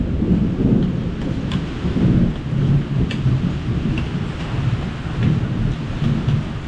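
Heavy rain pours down steadily and loudly during wet, cold weather, with rumbles of thunder rolling underneath and no voices.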